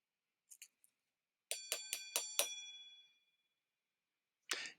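A small metal hand bell sounds in a few quick dings, then a run of five ringing strikes, then one more ding at the end, all clear against silence.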